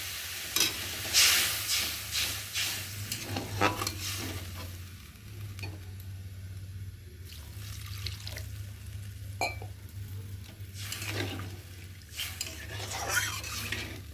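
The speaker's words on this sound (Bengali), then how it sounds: "এবার মশলাটা ভালো করে নেড়ে দেবো। মশলা থেকে তেলও ছেড়ে দিয়েছে, সুন্দর একটা গন্ধ, ভাজা ভাজা মশলা বেরিয়ে গেছে।" A spiced masala paste for a tengra fish curry is stirred and sizzles in a pan, steady close frying hiss with scraping strokes throughout and splashy bursts as water goes in, with no talking.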